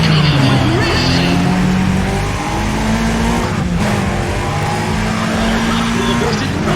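Race cars in Need for Speed ProStreet launch from the start line, engines revving hard and tires squealing in a loud, continuous roar of several cars accelerating together, with crowd-like noise mixed in.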